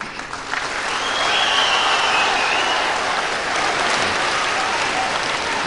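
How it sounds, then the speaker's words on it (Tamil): Dense applause from a large audience, sustained and steady, with no voices standing out. "இந்த கைத்தட்டல் ஓசையை கேட்கிறது அந்த வானம்"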